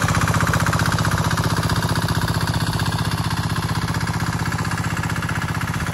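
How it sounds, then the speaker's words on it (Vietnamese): Engine of a TLP 173 rotary tiller running steadily with a fast, even chugging rhythm, loud and close throughout with no speech. "Khi mà sử dụng một cái máy xới đất như thế này"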